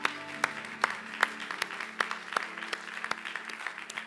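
A church congregation applauding the Lord during a sermon, a steady rhythmic clapping with strong beats about every half second, moderately loud, with a faint voice underneath.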